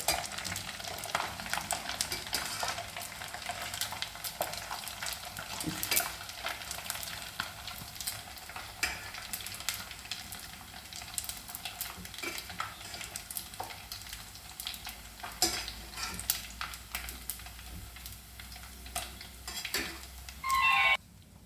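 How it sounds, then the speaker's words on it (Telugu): Chicken pieces fry in a hot pan for chicken powder, a steady close sizzle running throughout with repeated scraping and stirring strokes of a spatula against the metal, and no talking. "ఇలా ఫ్రై చేయాలండి."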